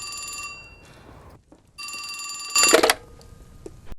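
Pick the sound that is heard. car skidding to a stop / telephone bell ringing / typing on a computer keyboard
telephone bell ringing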